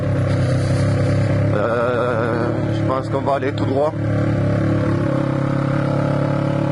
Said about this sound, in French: c'est une moto qui marche très fort